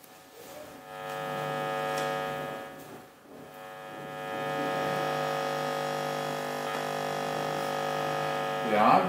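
A microwave receiver sweeping the wave field behind a double slit gives a continuous electronic hum that swells and dips as it passes interference maxima and minima, steady and unaccompanied by speech.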